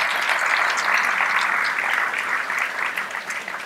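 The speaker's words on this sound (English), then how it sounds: "Let's give them a round of applause and thank them as well." An indoor audience at an early childhood economics event claps steadily for a few seconds, a dense, sustained round of applause that thins slightly toward the end.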